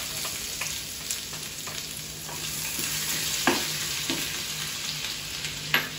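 Garlic and green chilli paste for Rajasthani kadhi sizzles loudly in hot oil with cumin, while a spoon scrapes and stirs in scattered strokes; close and continuous, with no talking.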